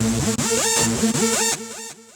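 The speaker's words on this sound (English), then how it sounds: "Resonant synth, it goes like this." Resonant synth line in FL Studio from a song recreation, playing a fast, busy pattern of sweeping, filtered notes that stays loud and dense throughout, with no voices.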